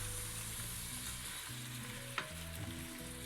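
Shrimp and mussels sizzling in a hot pan while being stirred, giving a continuous close crackle with a few scraping knocks of the utensil, no voices.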